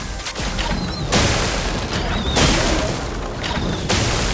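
An explosion attack in the video game Clair Obscur: Expedition 33 sets off three loud booming blasts at roughly even intervals, each a sharp broadband burst over a dense rumbling background.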